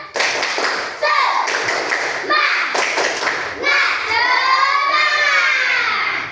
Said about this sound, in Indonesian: tepuk tangan, tepuk semangat